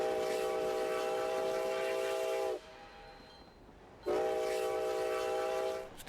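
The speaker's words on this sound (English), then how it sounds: "Steam excursions to Lake Bennett are led by locomotive number 73, a Baldwin Mikado Type 282" Steam whistle of Baldwin Mikado Type 282 locomotive number 73, restored in 1982, on the White Pass and Yukon Route railway toward Lake Bennett: two loud, long sustained blasts separated by a brief pause, with rumbling rail noise beneath.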